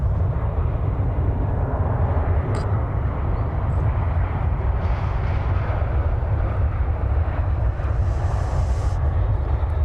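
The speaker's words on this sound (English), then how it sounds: "Looks like an Airbus A319 or 320." An Airbus A319 or A320 jet at DFW Airport, a continuous loud low engine rumble and roar sustained throughout, with faint brief higher sounds over it and no talking.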